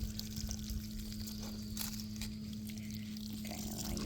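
Bones used for jewelry being rinsed with water, a faint continuous pour and trickle of running water over a low steady hum, close and quiet with no one speaking.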